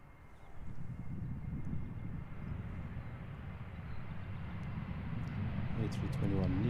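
A Transavia Airbus A321neo airliner lands at Schiphol's Polderbaan runway, its low engine rumble building steadily and swelling toward the end, with someone talking over the roar.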